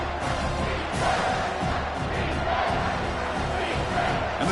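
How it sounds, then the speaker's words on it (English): A college football stadium crowd roars continuously to back the defense in the red zone, a dense, loud wall of cheering and yelling that holds steady without pause. "And the crowd coming to life here, trying to help this defense down in the red zone."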